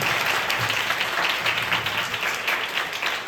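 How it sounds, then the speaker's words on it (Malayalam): A church congregation gives a pastor steady, moderately loud applause that holds evenly throughout without pause. "നല്ലൊരു കൈയടി കൊടുക്കാം."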